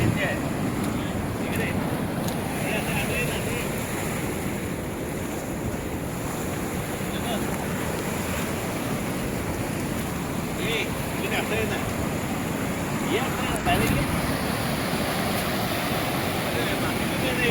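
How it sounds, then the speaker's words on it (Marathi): Surf rolling onto Purnagad beach on the Konkan coast at high tide, a steady, full roar of breaking waves with wind buffeting the microphone throughout, no voices. "इथे फेसाळ पाणी म्हणजे भरतीचं चित्र इथे दिसतंय आपल्याला पूर्णगडच्या किनाऱ्यावर"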